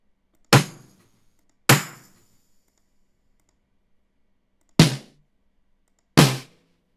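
Splat drum samples from a hip hop sample pack, four sharp, dry percussive hits played one at a time with pauses between them, each a crisp attack with a short decay, and no other sounds.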